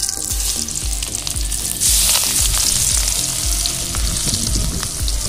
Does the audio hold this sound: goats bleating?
no